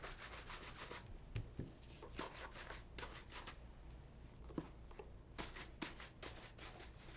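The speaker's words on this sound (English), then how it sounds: "we're just trying to get any excess polish off of the shoe" Large horsehair brush buffing excess polish off a new leather shoe, quick repeated brisk bristle strokes in rhythmic bursts, close and fairly quiet.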